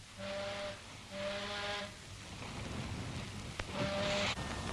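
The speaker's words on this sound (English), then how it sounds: "Give them three cheers on the whistle." A ship's steam whistle gives three loud, drawn-out blasts, each about a second long, with a steady hiss and engine rumble underneath.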